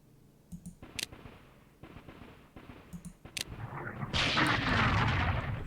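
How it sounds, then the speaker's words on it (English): Heavy artillery fire in The Operational Art of War IV, a World War II strategy game: a few sharp clicks and scattered booms, then a dense barrage swelling into a continuous roaring rumble. "So we're hitting that with some heavy artillery there."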